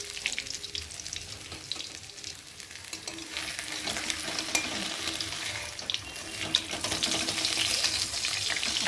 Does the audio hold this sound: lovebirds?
no